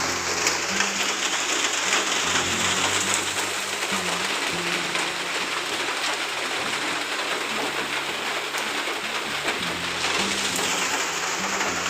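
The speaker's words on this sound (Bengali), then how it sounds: "সকাল থেকে প্রচুর পরিমাণ বৃষ্টি হচ্ছে," Heavy morning rain pours steadily outside, a dense and even hiss of falling water that holds without a break throughout, with no voices.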